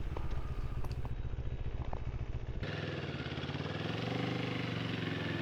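A Moto Morini Scrambler 650 motorcycle engine idles steadily with an even low rumble, loud and close, no speech, its character shifting partway through.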